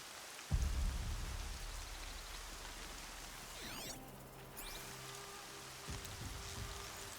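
Steady, soft rain in the open world of Horizon Zero Dawn, a continuous hiss with faint game sounds and a few low thumps mixed in, no voices.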